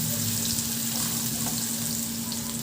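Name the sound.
garlic sautéing in hot oil in a pan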